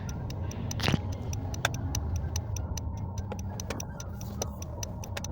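Car seatbelt warning chime ticking steadily in a fast, even rhythm inside a moving car, heard over the low rumble of the engine and road noise.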